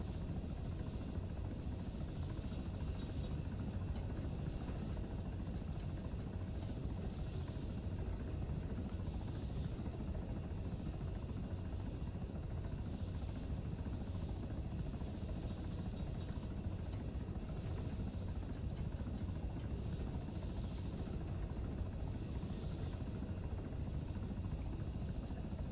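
Helicopter rotor and engine drone in a flight simulator game, a steady, loud continuous whir with a faint rhythmic chop, sustained throughout with no talk.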